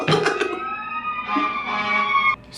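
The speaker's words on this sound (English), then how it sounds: "Do you hear the sirens?" A police siren wails steadily with a slowly rising tone, loud and close, and cuts off near the end.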